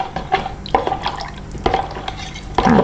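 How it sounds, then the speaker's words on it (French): A spoon stirs tomato into a pot of broth for beef bourguignon, giving a few wet clinking scrapes and liquid swishes in an irregular rhythm, close and clear. "Donc je vais venir mélanger ça dans mon bouillon."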